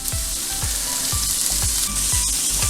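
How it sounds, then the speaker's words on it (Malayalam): Sliced onions and curry leaves fry in a hot pan for mutton roast, a steady loud sizzle with a regular scraping stir roughly every half second, close and alone. "2 സവാള ചെറിയ സ്ലൈസായിട്ട് അരിഞ്ഞ് വെച്ചിട്ടുണ്ട്, അതിട്ട് കൊടുക്കാം"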